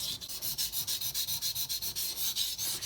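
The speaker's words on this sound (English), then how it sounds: "Decide to go on and sharpen the same side for like another minute or so." A kitchen knife being sharpened on a water stone in quick, regular back-and-forth strokes, each a gritty close-up scrape, about five per second, with no speech.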